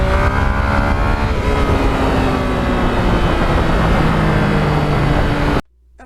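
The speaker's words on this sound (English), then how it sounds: "that engine with all the low end torque and a beautiful wide power band" A Yamaha MT-09 motorcycle engine winds out loudly and steadily, a continuous rising mechanical roar with harmonic whine that holds for over five seconds, then cuts off abruptly into near silence.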